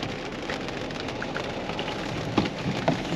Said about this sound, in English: Now here I am in the rain out on some very interesting country.